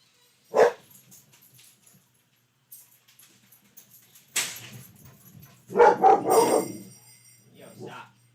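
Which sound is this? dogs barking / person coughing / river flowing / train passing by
dogs barking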